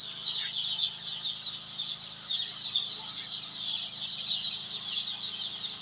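Chickens in a poultry brooder house, a constant chorus of many birds cheeping and clucking together, moderately faint and steady, with a low hum underneath and no talk.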